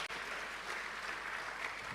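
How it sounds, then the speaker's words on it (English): Applause from an audience at a church-hosted talk on brand growth, a steady dense wash of clapping that holds evenly throughout without voices over it. "round of applause for that one"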